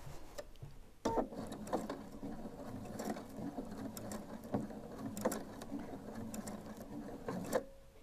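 A sewing machine stitches around a cushion seam in quick mechanical runs of whirring and ticking, pausing and restarting with clicks and thumps as the fabric is turned, close up with no speech.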